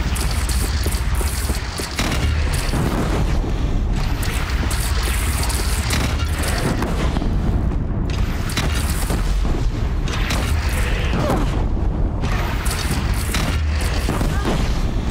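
Heavy cannon blasts boom again and again through a loud, continuous battle din in the video game Horizon Zero Dawn, with shouting voices mixed in.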